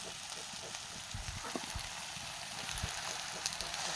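Bottle gourd leaves frying in a pan, with a soft, steady sizzle and light stirring scrapes heard faintly and continuously, without any talk.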